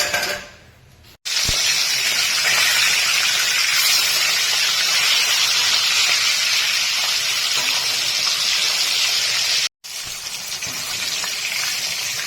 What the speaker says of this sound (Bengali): একইভাবে বাকি মাছ ভাজবো